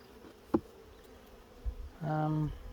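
A honeybee from a hive under inspection buzzes close by in one short, loud burst, after a quiet stretch broken by a single faint tap.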